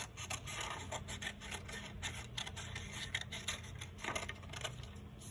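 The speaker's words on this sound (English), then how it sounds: "I'm just kind of doing the scissors." Scissors snip through paper in quick irregular cuts, shaping bush and tree outlines for a craft project on primary buildings, close and crisp with no talking.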